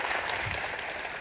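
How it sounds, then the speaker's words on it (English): Audience applause for a panel seated on stage at a World Economic Forum discussion in Hanoi, a steady, dense wash of clapping throughout the short stretch with no speech. "Could we just start by giving a big round of applause for our esteemed panel here on the stage with me?"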